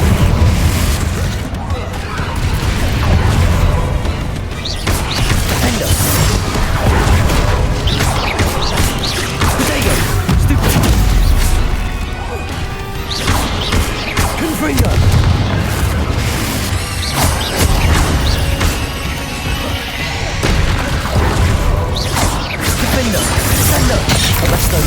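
Confringo fire spells in the Hogwarts Legacy video game burst as loud, heavy booms and crashes, repeating throughout a long, busy battle soundscape with layered impacts.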